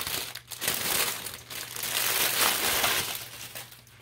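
Plastic bag crinkling and rustling steadily up close, with brief pauses between bursts of handling, no voices.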